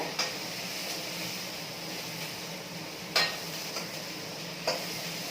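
Chopped bottle gourd frying in a pan, a steady broad sizzle throughout with a few sharp clinks of a spatula or utensil against the pan at irregular intervals.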